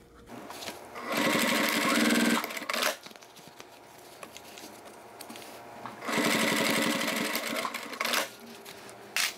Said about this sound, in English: So I'm going to sew up there 1 inch on each of the 2 pockets.